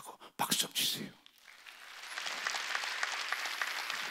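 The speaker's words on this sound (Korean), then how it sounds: "박수 좀 치세요." A church congregation at a Wednesday worship service breaks into applause after a pastor's voice, the clapping swelling into a sustained, even wash of many hands in a large room.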